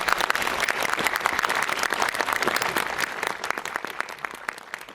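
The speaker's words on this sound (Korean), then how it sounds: "박수 좀 부탁드릴게요" Lively applause from a cinema audience at a film stage greeting with actor Hwang Jung-min, a dense burst of many hands clapping continuously for five seconds, gradually thinning toward the end.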